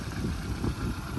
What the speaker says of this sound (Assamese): গাড়ী ষ্টাৰ্টতে আছে, তো দেখিছে।